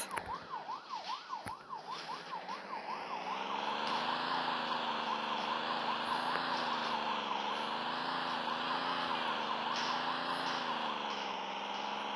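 A wailing police car siren in a knockoff GTA-style video game, rising and falling quickly at first, then shifting to a slower sweeping wail that holds steady and loud alone.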